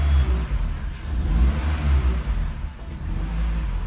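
A car engine, restarted after the dead battery was jump-started, revs steadily, loud and close, with a rough idle whose revs dip and rise again.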